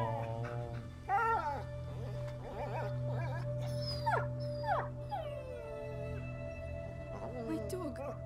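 A dog in the video game A Plague Tale: Innocence whimpers and lets out rising, wavering howls, several bursts across the clip over a low steady background drone, with characters speaking.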